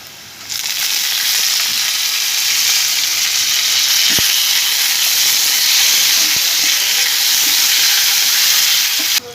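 Curry leaves, cumin, garlic and dried red chillies sizzle in hot oil for a tadka for Hyderabadi sour masoor dal, a loud, steady frying hiss that runs unbroken, close up and alone.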